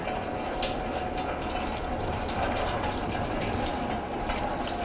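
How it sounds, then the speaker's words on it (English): Engine coolant drains steadily from a detached radiator hose on a 2006-2011 Cadillac DTS, a continuous close splashing pour like running tap water that holds an even level throughout with no pauses. "And let that coolant drain."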